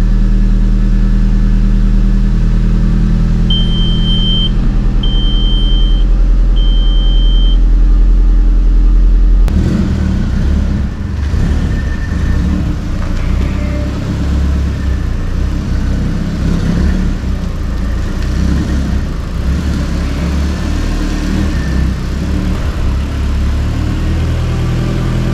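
An Iveco Daily van engine fitted with a MaxxECU runs steadily close by during an ignition timing check, a low continuous hum that shifts abruptly partway through into a rougher, busier running note, with no talk.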